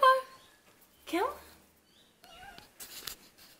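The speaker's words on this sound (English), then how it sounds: "she is a Devon Rex kitty" A Devon Rex cat meowing indoors, a few short, fairly faint meows spread across a quiet room, with a voice speaking softly in between.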